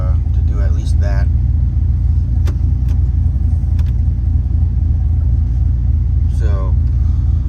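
A 2000 Chevrolet Silverado with an aggressive camshaft idles just after starting, a steady low rumble running throughout with faint intermittent voice-like bits above it.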